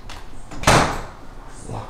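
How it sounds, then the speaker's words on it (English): A house door swings shut with one solid thump, followed by fainter handling and a latch click as it is locked, heard close up amid faint room noise. "Lock the doors, check."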